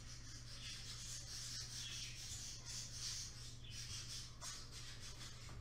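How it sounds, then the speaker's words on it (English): Birds squawking outdoors, a faint continuous scratchy chatter of calls with a steady low hum underneath, distant and quiet throughout. "The birds are agreeing, okay?"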